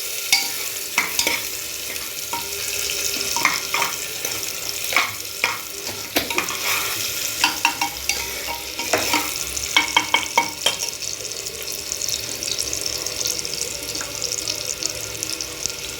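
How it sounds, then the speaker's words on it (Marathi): Onions sauté with curry leaves in a hot pan, a steady close sizzle broken by repeated scraping stirs of a spoon against the metal, with no talking. "आता कांदा परतून घ्यायचा आहे चांगला।"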